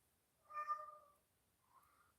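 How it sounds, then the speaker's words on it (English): A house cat gives a drawn-out mournful meow, followed by a second, fainter and shorter one, close and quiet with no talking. "Oh, mournful meows."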